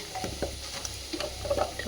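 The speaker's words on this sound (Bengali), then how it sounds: "একটু আলু ভাজা করছি" Potatoes frying with curry leaves in a pan give a close, steady sizzle, broken by stirring scrapes and a few louder knocks, with a faint voice talking now and then.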